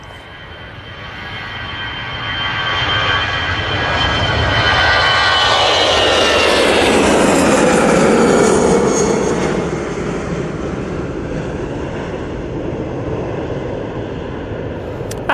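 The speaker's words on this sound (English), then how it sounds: "And we've got the EasyJet on the roll." An EasyJet airliner rolls down the runway at Manchester Airport on takeoff, its jet engines swelling into a loud roar that peaks mid-way and then fades gradually into a distant rumble as it climbs away.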